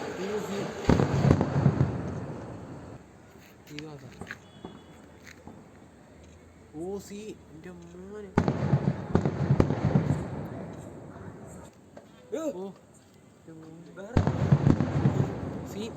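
Sample Sivakasi firecrackers go off in a series of loud bursts with crackling tails, spread over several seconds, while people talk excitedly in between.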